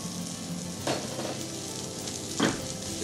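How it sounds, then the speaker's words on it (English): Garlic sizzling in a pan while cooking risotto with mushrooms, a close steady frying hiss with two soft scraping stirs about one and a half seconds apart. "Throw that garlic in there."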